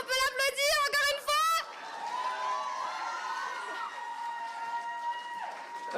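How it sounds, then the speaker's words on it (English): An audience at a Japan Impact idol solo contest applauds and cheers after a singer's performance, a sustained crowd roar following a short stretch of sung vocals. "On peut l'applaudir."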